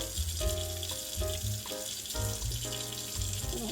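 A makeup brush is lathered and rinsed under running water at a sink, with short splashing bursts and faucet flow repeating in quick uneven pulses, close and fairly quiet.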